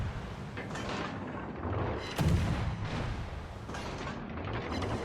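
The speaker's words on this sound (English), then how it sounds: "Switching to guns." Naval ship guns fire in a video game sea battle, a heavy continuous rumble with one sharper boom midway, loud and dense throughout with no talking.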